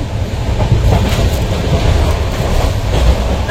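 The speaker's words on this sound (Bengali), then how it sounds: "আমরাও এই ট্রেনেই সফর করছিলাম।" A moving passenger train on the Howrah to Dhanbad route, heard from inside as a loud, continuous rumble with rhythmic clatter of wheels on track throughout, no talking.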